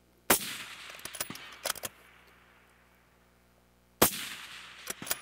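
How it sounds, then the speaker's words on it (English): Two rifle rounds fired quickly downrange during tactical shooting practice: a loud sharp report, then a few seconds of echo and scattered clicks, then a second crack with more clattering after it. No one speaks. "put 2 rounds accurately downrange relatively quickly"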